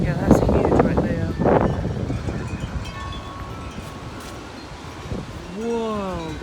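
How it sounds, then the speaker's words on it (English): Strong wind gusts roar in broad, rushing waves ahead of a storm, loud and buffeting, with voices sounding over the gusts at times. "Whoa, those are huge wind gusts. It is loud."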